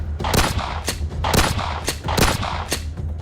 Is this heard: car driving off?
no